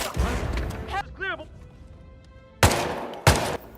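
Gunfire from a security guard's pistol in the stealth game Hitman: two loud, sharp bursts near the end, preceded by someone talking and a short electronic chirp, with quiet game ambience between.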